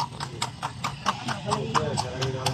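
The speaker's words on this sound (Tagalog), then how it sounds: "Ganda kabayo ni tatay." A horse in Ilocos Sur clip-clops with steady, evenly spaced hoof beats at a brisk pace, close and clear, while people talk over it.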